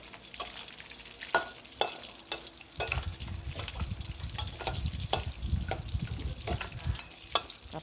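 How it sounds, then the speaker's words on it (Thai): Pork rib bones frying in hot oil give a steady close sizzle, with sharp clicks and scrapes of stirring spaced through it and the bubbling growing louder partway in, no voices. "ทอดกระดูกซี่โครงหมู"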